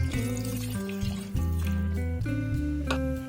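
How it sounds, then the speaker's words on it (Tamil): Tamarind water pours into a simmering fenugreek curry (vendaya kulambu), a steady liquid splash and trickle heard close, with tonal music playing throughout. "இதோட நான் இந்த புளி தண்ணியை சேர்த்துடுறேன்"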